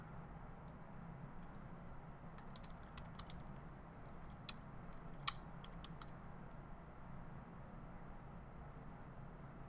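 Quiet, scattered keystrokes on a computer keyboard while a holiday name is entered in NetAXS access-control setup software, clicking in short irregular bursts over a steady low background hum.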